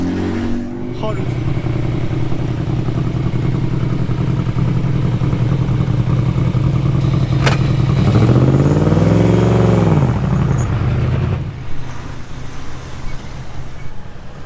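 A vintage race car at the Tour Auto 2020 rally revs loudly nearby, its engine drone climbing through a sweeping rev rise before cutting off, with voices audible over the noise.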